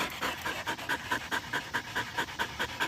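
A dog with a thick double coat that is blowing its coat pants rapidly and steadily, close by, with quick rhythmic breaths and no talk.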